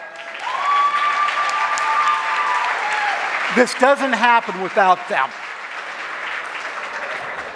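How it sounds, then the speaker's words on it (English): An audience at a gala dinner applauds its sponsors with sustained, steady clapping, while someone speaks briefly over the applause partway through. "Give them applause."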